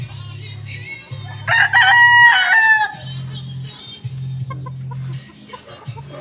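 A fighting gamecock gives one loud, close crow lasting over a second, set against an intermittent low mechanical hum that cuts in and out.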